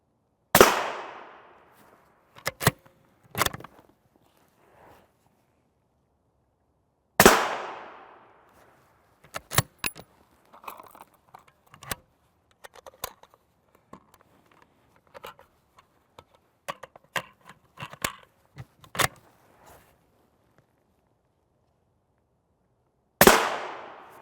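M855 rifle rounds fired at a Level III+ mini shield ring out as sharp, loud gunshots, with a few widely spaced single cracks and a faster irregular string of shots in between, each ending quickly against a quiet background.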